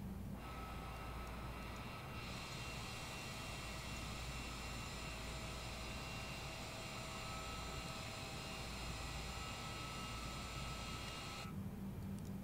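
A climbing aircraft engine in Microsoft Flight Simulator 2020, a steady faint drone with a sustained high whine that cuts off near the end.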